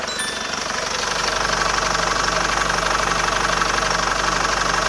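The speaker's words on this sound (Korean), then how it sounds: "차량의 엔진음 바로 들려드리도록 하겠습니다" A domestic large diesel SUV in near-new condition idles steadily up close after a brief lead-in, with a regular, even diesel clatter and low rumble and no talking.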